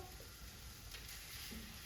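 Chicken drumsticks sizzle in a pot for yassa, giving a steady close hiss of frying that runs unbroken with no voices.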